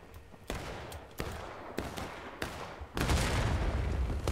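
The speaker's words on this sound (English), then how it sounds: "their artillery just fired" Gunfire from a War of Rights battle: several sharp, fairly loud reports spaced about half a second apart, then a heavier, sustained rumbling boom of artillery fire that fills the final stretch.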